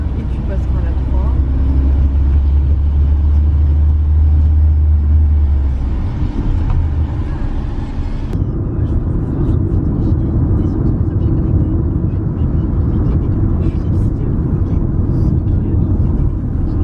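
A car on a public road during a driving lesson accelerates with a steady loud engine rumble, and the tone shifts partway through as the driver changes gear.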